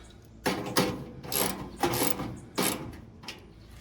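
A ratchet wrench tightens the last bolt on a critter-proofing screen over a grill opening, giving five or six loud, close, evenly spaced bursts of ratcheting clicks with short pauses between, no voices.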